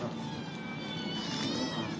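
A cat meowing close by during rainy weather, the calls running steadily through the whole stretch with no talk over them.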